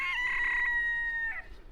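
A rooster crows once in a French vegetable garden in early April, a loud, close, sustained cock-a-doodle-doo with a falling tail.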